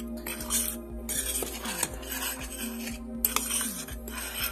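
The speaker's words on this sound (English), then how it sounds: "whisk it, stir it, whatever you got to do." Dry cornbread ingredients are whisked in a bowl, with quick scraping strokes and light metallic clinks of utensil on bowl, close and steady, with faint background hum.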